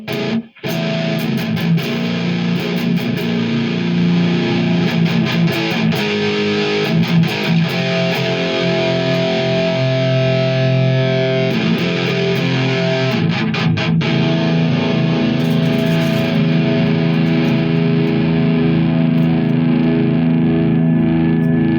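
Electric guitar played through the distortion channel of a Marshall MG100 HCFX modeling amp, loud crunchy chords and riffs ringing continuously with sharp pick attacks, no talking.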